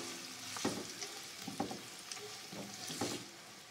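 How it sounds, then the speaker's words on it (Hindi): Onions sizzle in a pan while being stirred, with a soft continuous frying hiss and four evenly spaced scraping strokes of the spoon, close and fairly quiet. "प्याज को हमने डाल दिया। हम इसको अच्छे से मिक्स करेंगे"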